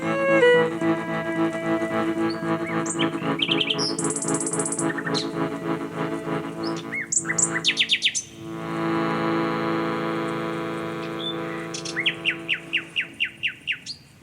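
Birds chirp and sing in overlapping bright, clear calls: sustained warbling phrases, a few quick high trills, then a run of evenly spaced short tweets near the end, all close and prominent with no talking.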